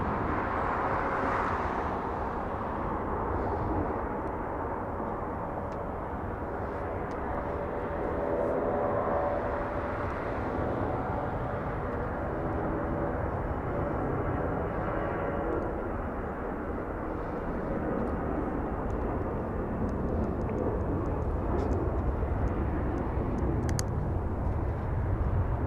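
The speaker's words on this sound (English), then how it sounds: "Delta Airlines, this one, where's it flying to? This one is flying to, as I take a look. Flying to San Francisco, the departure." A Delta Airlines jet departing Los Angeles International Airport for San Francisco sends out a long, continuous broadband engine roar from a distance, fairly steady and unbroken across the whole span.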